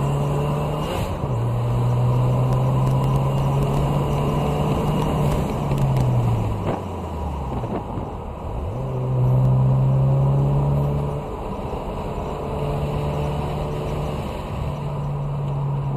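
Race car engine at Portland International Raceway, heard from inside, droning loudly as it holds speed, with a drop in pitch during a lift off the accelerator before it climbs back up again.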